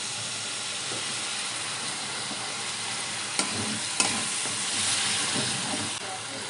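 Fish curry with chilli powder and water sizzling in a pan, a steady loud hiss with a few small pops and stirring clinks, heard alone.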